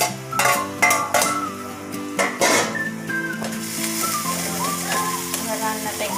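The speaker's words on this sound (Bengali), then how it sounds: "এবার চিংড়ি মাছ কটা দিয়ে দেবো।" Prawns are dropped into a bubbling Bengali malai curry in a pan: a few sharp clanks and clinks of utensils against the pan at first, then a softer, continuous simmer and sizzle.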